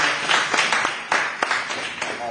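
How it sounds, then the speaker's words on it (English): An audience claps at a gathering, sharp individual hand claps scattered irregularly with a loose, uneven rhythm in a reverberant room, fairly close and moderately loud. "certainly give ourselves a big round of applause for the wonderful work."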